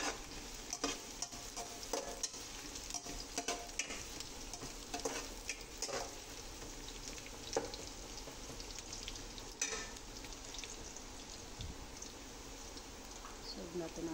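Garlic sizzles and crackles in a pan with ginger, a steady low frying hiss broken by light stirring scrapes and clicks, faint and close.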